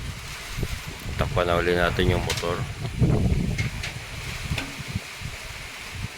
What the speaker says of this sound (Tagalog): Lakas ang hangin talaga mga kabokals.